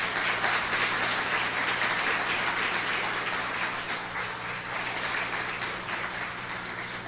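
Church congregation applauding during a sermon, steady dense clapping that fills the room at an even level for several seconds, with a faint low hum underneath and no talk.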